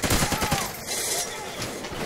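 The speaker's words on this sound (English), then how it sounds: "Shoot him, KG." Call of Duty: Ghosts in-game gunfire pops off in a quick automatic burst of loud shots early on, followed by a softer wash of game noise and distant firing.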